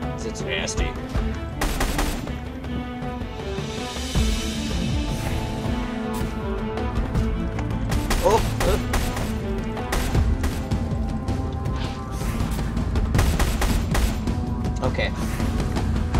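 Weapon fire in the dinosaur shooter game Orion: Dino Beatdown, with repeated rapid bursts of gunshots and heavy impacts running through the whole stretch, loud and dense, while players talk over it.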